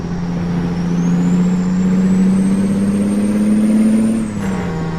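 A large truck hauling an oversized special-transport load rolls slowly, its steady low engine drone holding close and loud throughout, with a faint rising whine above it and a slight drop near the end.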